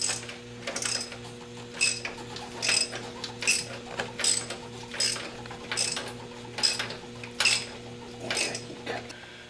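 Regular clicking strokes come from a ratchet tightening the crankshaft bolt on a Mercedes 300D, each pass a short metallic burst, about a second apart and close by, over a faint steady hum.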